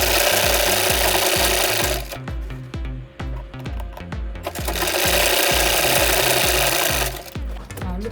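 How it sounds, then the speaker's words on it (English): A sewing machine stitches asoke fabric with a tight stitch, its loud, steady mechanical chatter running continuously, pausing briefly partway through before resuming. "And then you place your footer down, and then you start sewing."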